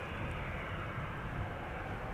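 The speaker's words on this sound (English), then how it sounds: "Right, so this is the Emirates A380" An Emirates Airbus A380-800 airliner departing Amsterdam Schiphol Airport gives a steady, broad engine roar that holds at an even loudness throughout, with no voices over it.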